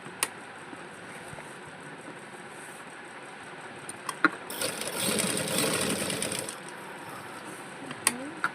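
An electric sewing machine stitching a shirt collar runs in a loud two-second burst of rapid whirring, with quieter clicks of handling fabric before and after it and a voice speaking at times.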